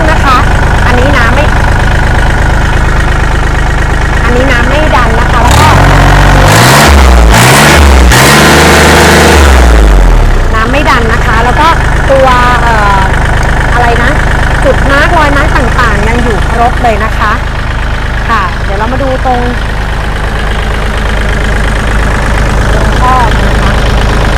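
A Kubota L3608SP three-cylinder tractor, a 2015 used farm model, idles loudly and steadily up close, with a brief rev early on, while someone talks over the engine throughout.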